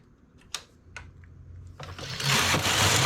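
A knitting machine carriage is pushed across the needle bed for a single row, rising into a loud, rushing mechanical whir after a few soft clicks as the needles are set.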